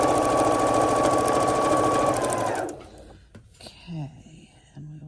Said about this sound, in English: Okay, and we will sew it.